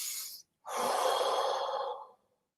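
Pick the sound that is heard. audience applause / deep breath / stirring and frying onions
deep breath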